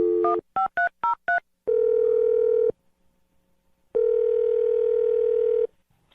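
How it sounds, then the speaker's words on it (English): A telephone number keyed in as a quick run of about six short touch-tone beeps, followed by two long loud steady ringback tones separated by a pause, close and clear with no talking. "dial her phone number right now"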